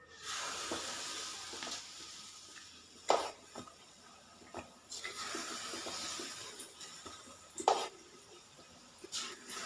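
Kachayam batter ladled into hot oil, frying as a steady, fairly faint hiss and sizzle with a few sharper crackles and swells over nearly ten seconds, with no talk.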